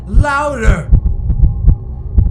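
A deep, thumping heartbeat repeats in a quick, steady rhythm, loud and close, after a brief voice at the start.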